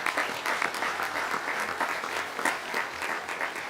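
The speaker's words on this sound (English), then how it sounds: "So help me give a round of applause" An audience at a summer seminar opening session claps in a moderate, uneven round of applause, individual hand claps distinct within the steady patter, with no one speaking.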